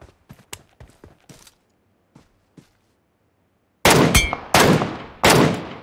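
Gunfire from a rifle in the mobile shooter PUBG Mobile: a quick flurry of sharp distant-sounding shots, a few isolated pops after a pause, then three much louder, closer booming blasts.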